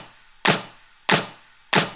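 Three sharp, crunchy layered snare drum hits land about 0.6 seconds apart, each slightly dragged off the beat with a bright noisy crack and a short decay, isolated and close.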